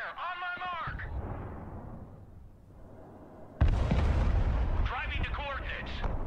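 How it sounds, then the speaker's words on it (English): Rocket artillery firing in the video game Broken Arrow, rumbling booms and a loud sudden blast rolling into sustained roaring explosions, with voices speaking over the battle noise. "Rocket artillery at your order, sir."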